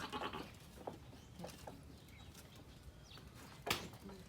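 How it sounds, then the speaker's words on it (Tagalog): Faint goats bleat intermittently on a farm over quiet outdoor background, with a louder bleat near the end and distant bird chirps. "So yan naman po ang ating mga kambing."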